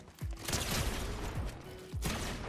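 Three sharp, booming pump shotgun shots in Fortnite, spaced about a second apart, each with a quick decaying tail, over a steady background hum.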